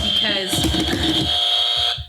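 A sustained electronic buzzer tone sounds for about two seconds, with voices talking over it before it fades out.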